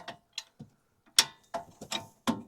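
Brake caliper bolts are loosened with a long spanner on a 2013 Mercedes AMG C-Class, giving a handful of short, separate metallic clicks and knocks, close by, with gaps of silence between them.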